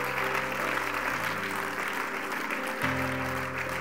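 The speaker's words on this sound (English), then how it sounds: "Can somebody give the Lord a hand clap of praise this morning?" Church congregation clapping hands in praise during a morning service, a steady wash of applause with a sustained musical tone underneath, moderately distant and fairly quiet.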